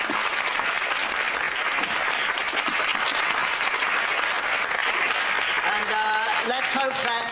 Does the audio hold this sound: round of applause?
yes